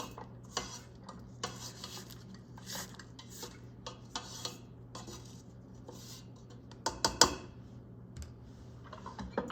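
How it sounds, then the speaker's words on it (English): A spatula scrapes down a mixing bowl of spritz cookie dough, soft irregular scuffs and light clinks against the bowl, faint and close in a quiet kitchen. "scrape down the bowl"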